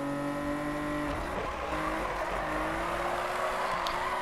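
Tires squeal in long drawn-out slides as a car drifts through corners in the Need for Speed racing game, a loud continuous engine drone underneath and shifting tonal screeches throughout.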